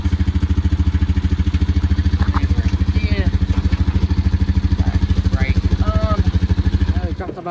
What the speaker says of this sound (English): It is the starter motor again.